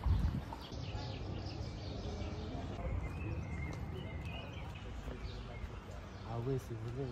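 Horses' hooves clip-clop on a busy Marrakech street, a faint rhythmic clatter under traffic noise and scattered bird chirps while people talk nearby.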